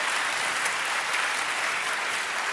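Audience applause at a live broadcast of a young inventors prize show in Reykjavik, loud continuous clapping from a large crowd at a steady level throughout.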